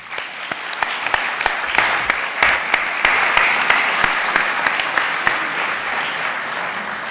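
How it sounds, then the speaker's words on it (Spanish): Audience applause welcoming Dr. Brun at a book presentation, a steady full round of clapping from a room of listeners, loud and sustained with distinct sharp claps over the crowd wash. "le damos la bienvenida a la doctora Brun con un fuerte aplauso"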